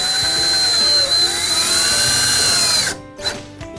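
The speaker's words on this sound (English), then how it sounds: "use two flathead 2-inch screws and screw down the assemblies in the pre-drilled pilot holes" A power drill driving two-inch flathead screws into pre-drilled pilot holes while assembling a Carrom foosball table: a loud, close whine that rises and falls slightly, then cuts off near the end, followed by a brief clack.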